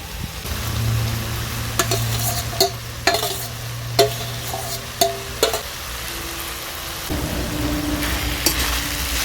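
A spoon stirs chopped banana flower with fried potatoes and rice in a sizzling pan, repeated sharp scraping knocks against the metal over a steady frying hiss, close and fairly loud, with no talk.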